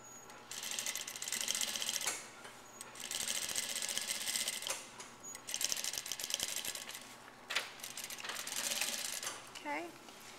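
A sewing machine top stitches a blouse along the yoke side, running in four rapid mechanical bursts of stitching separated by short pauses, close and moderately loud.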